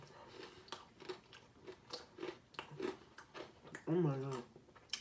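Fried chicken crunches under repeated bites and chewing, a series of crisp, close crackles at an uneven rhythm, with a louder crunch near the end.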